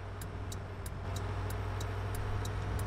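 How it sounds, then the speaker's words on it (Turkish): Turn signal indicator of a modern bus in Bus Driver Simulator 19, clicking in a steady, even rhythm of about ten sharp ticks over a constant low engine hum, with no talking. "Sinyalimizi verdik abicim."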